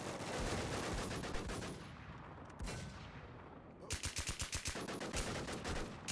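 Rapid bursts of gunfire in the game WarZ crackle in quick succession, with a clear run of evenly spaced shots near the end.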